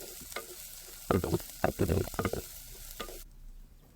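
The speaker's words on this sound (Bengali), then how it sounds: "কড়াইয়ে দিয়ে দিলাম সরিষার তেল যে পেঁয়াজ কুচিটা দেখিয়েছিলাম সেই পেঁয়াজ কুচিটা দিয়ে দিলাম এবং এগুলো নাড়তে থাকলাম" Chopped onion frying in mustard oil in a wok, stirred in several quick scraping bursts over a soft sizzle, close and fairly loud, then settling to a quieter hiss.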